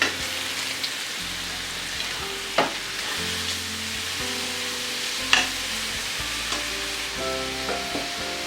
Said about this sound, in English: Shallow fry the chicken pieces in a mix of olive oil and butter